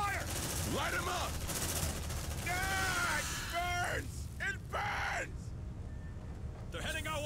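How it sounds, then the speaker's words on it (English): Automatic gunfire bursts repeatedly in the video game Aliens: Dark Descent, loud rattling volleys mixed with shouted voices and game effects, pausing briefly before resuming. "Suppressive fire. Light them up."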